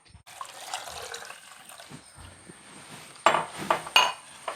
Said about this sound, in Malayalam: കുറച്ച് വെള്ളം കൂടെ ഒഴിക്കണം